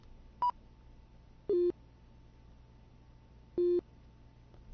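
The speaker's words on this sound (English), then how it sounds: "if I play with the pitch slider, you hear the nature of that beep" Three separate electronic beeps from a Unity audio source as its pitch slider is lowered, each tone dropping lower and stretching longer than the last, with gaps of quiet between them.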